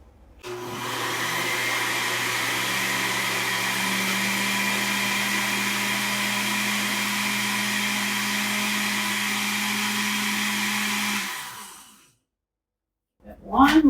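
A countertop blender whirs steadily for about eleven seconds, blending flourless chocolate cake batter with melted chocolate, a loud even motor drone with no talk, then cuts off abruptly before a brief faint sound at the end.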